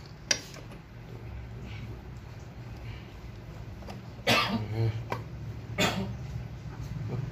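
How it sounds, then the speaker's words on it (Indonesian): Three sharp coughs spaced a few seconds apart, the first brief and the later two louder and harsher, over a steady low background hum inside a 2007 Toyota Harrier. "Batuk. Batuk."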